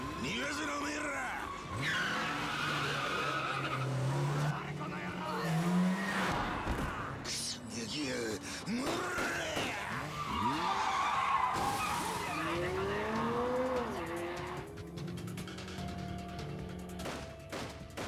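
Tires squeal and a car skids repeatedly in a Yakuza 0 chase cutscene, with sharp swooping screeches over engine roar, bursts of gunfire and shouting voices, loud and close throughout.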